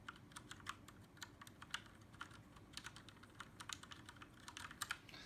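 Keys on a Kinesis Freestyle Edge gaming keyboard typed lightly without bottoming out, giving a quick, uneven run of soft clicks and clacks close by over a low steady background hum.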